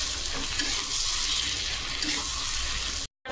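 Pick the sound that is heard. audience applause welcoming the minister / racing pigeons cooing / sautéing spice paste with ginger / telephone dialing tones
sautéing spice paste with ginger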